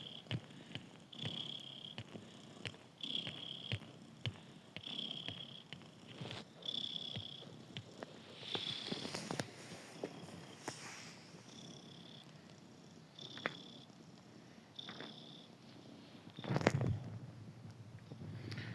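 A cat purrs softly and close by, its low rumble pulsing in a slow, regular rhythm with quiet background noise.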